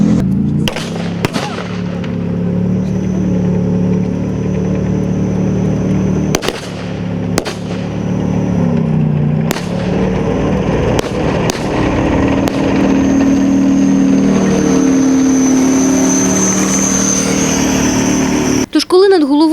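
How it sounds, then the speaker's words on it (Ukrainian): A 40-tonne tank rumbles loud and close overhead during a military cadet tank-rollover drill, its heavy engine droning steadily, with sharp clanks and bangs cutting through. "їде 40 тонн у вигляді танка"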